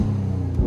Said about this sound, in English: Let's just get a sound for that exhaust